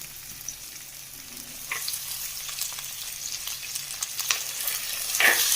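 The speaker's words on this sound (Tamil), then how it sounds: "அதோட தக்காளி சேர்த்துக்கலாம்." Onion, garlic, curry leaves and tomato sauté in oil in a clay pot for a village-style dry fish curry, a steady soft sizzle close by with occasional stirring scrapes.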